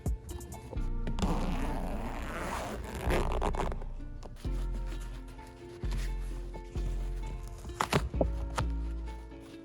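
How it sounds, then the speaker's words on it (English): Zipper on a car headrest being opened, heard as several rasping pulls, close and fairly loud, separated by short pauses, with no talking. "there is a zipper, which you can just unzip"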